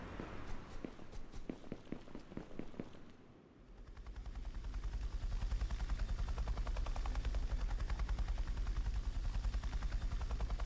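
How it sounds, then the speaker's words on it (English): Rapid footstep-like thuds give way to a steady, loud rotor thrum of a helicopter in the game Technicity that holds unbroken for the rest of the clip. "Let's get this horrible helicopter back."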